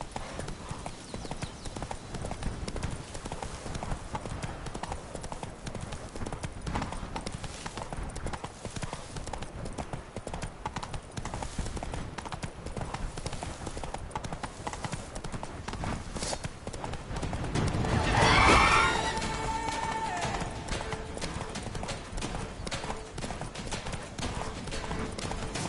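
Steady horse hooves clip-clop at a riding pace throughout in a PS4 video game, over a constant ambient bed, with a brief louder swell midway.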